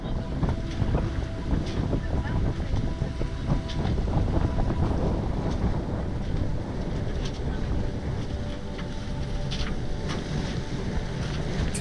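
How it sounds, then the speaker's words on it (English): A sailboat heading between islands on the way to Panama with steady wind buffeting and water rush, a loud continuous roar with faint creaks, and a voice partly audible beneath. "Today we are sailing with Esperanza to another island."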